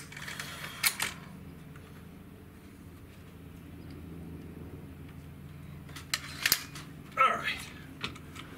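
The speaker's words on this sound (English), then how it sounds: "We're gonna shoot five shots." A Hatsan Mod 135 QE Vortex .30 caliber breakbarrel air rifle fires 44.75 grain JSW pellets, with sharp isolated cracks spaced apart over a low background hum and a few mechanical clicks.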